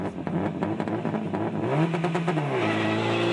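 A Subaru STI rally car at a stage start on the Rocky Mountain Rally, engine idling and blipping loudly up close, with revs rising and falling in a long sweep before settling back to a rough idle.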